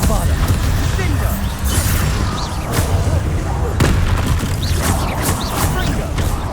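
Explosive spell impacts from the video game Hogwarts Legacy crash and boom in dense, continuous succession, with sharp bursts standing out from a thick wash of battle noise at steady loudness.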